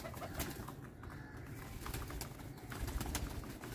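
Pigeons coo in their freshly cleaned loft, a faint, steady murmur of overlapping low coos with scattered small clicks throughout.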